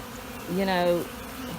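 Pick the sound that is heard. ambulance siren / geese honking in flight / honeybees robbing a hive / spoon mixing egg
honeybees robbing a hive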